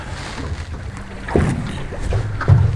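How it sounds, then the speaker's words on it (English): Wind gusting over a small fishing boat off an east coast bay, a steady low rumble of buffeting that swells louder in bursts, with water and hull noise mixed in and no talk. "That wind's come up again."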